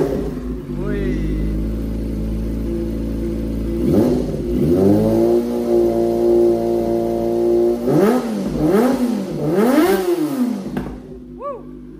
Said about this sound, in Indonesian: Saya gas sedikit.